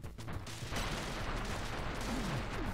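Gunfire in the retro-styled game Retro City Rampage crackles as rapid, dense bursts of shots and explosions, loud and continuous with chaotic game noise.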